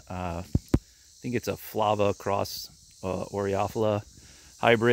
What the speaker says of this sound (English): You can hear the cicadas in the background probably.